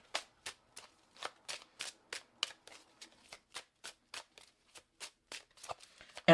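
Oracle cards being shuffled by hand, a steady run of about twenty crisp riffling bursts close up against a quiet background.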